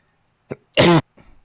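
A brief throat clearing: a short catch, then a loud, harsh rasping burst, followed by a quieter rough exhale.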